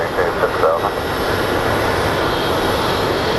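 Jet airliner engines at Phoenix Sky Harbor airport make a steady, broad roar, loud and sustained, with a faint voice beneath it at the start.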